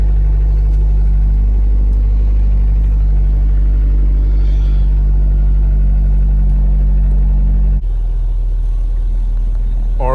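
A Honda K24 engine in an FA5 Civic, started cold, idles as a steady loud low rumble that drops in pitch and loudness toward the end, with no voices over it.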